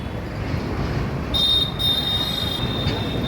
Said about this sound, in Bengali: এই যে শিয়ালদা যাওয়ার ট্রেন।